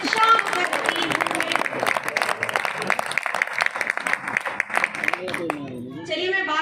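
Audience clapping at a Hindi kavi sammelan poetry recital in Chhatarpur, a dense sustained wave of applause across the hall that thins toward the end, with some voices underneath.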